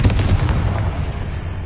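Confringo fire spell from Hogwarts Legacy bursting into a loud, close explosion, a rough booming blast that decays into a rumbling tail.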